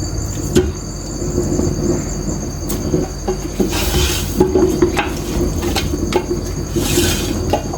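Roast meat pieces for namkeen gosht go into a pot with oil, producing repeated metallic clinks and scrapes over a constant hiss, close and fairly loud.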